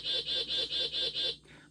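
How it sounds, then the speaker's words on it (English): An hourly bird-call clock sounds a honking bird call, six evenly spaced repeated notes close by, then a softer tail. "clock that goes off every hour with different birds"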